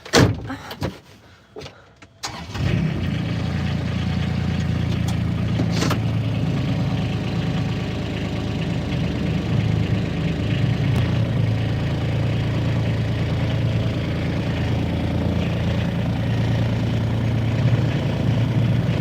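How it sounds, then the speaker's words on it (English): A large tractor fitted with a hedge trimmer rolls slowly along a rural road, its steady low engine rumble filling the scene after a brief rustling start and continuing unbroken nearby. "We've got a big tractor coming down the road."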